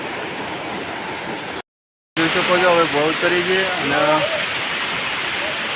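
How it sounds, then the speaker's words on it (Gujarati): A heavy flow of water rushes steadily at a temple site in Rajasthan, a loud, dense roar that is broken by a short dropout, while someone talks over it. "જો મિત્રો પાણી આટલું બધું આવે છે અને ઉપર લીક પર જાય છે"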